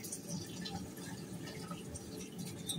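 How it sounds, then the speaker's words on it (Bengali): Hands are washed under a running kitchen tap, with a steady, close hiss of flowing water and soft splashing throughout. "তো হাতটা ধুয়ে নিচ্ছি।"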